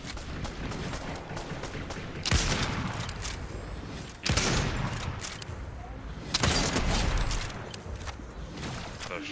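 Fortnite gunfire in a match: bursts of shots and booms, with heavier blasts roughly every two seconds over continuous crackling battle noise, fairly loud and without talk.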